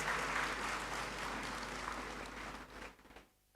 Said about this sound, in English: So you deserve a round of applause.